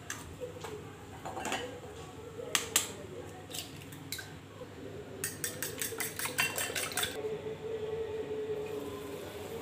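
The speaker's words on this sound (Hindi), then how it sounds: "अब हम लेंगे 7 अंडे" Seven eggs beaten in a bowl for an egg and potato bhujia, a utensil tapping against the bowl in scattered clicks and then a fast rhythmic run of taps, close, over a low background hum.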